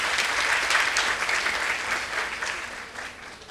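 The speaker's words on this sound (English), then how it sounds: "So shall we applaud each other as a family of peace?" An audience at a peace gathering breaks into steady applause, a dense bright wash of many hands clapping that holds evenly, then slowly thins toward the end, with no talking over it.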